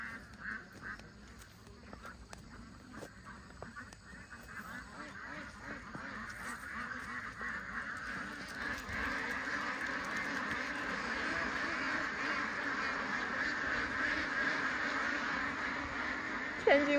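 Ducks at a fish pond after heavy rain, a steady massed chorus of quacking and calls that swells and grows denser over the stretch, fairly near with outdoor ambience.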